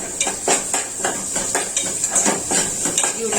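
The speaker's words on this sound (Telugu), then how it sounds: "ఇందులో కొంచెం కరివేపాకు వేస్తున్నానండి" Curry leaves drop into a hot tempering of chillies and seeds in a pan, crackling and spluttering steadily while a spoon clinks and scrapes against the metal in a quick irregular rhythm, close and fairly loud.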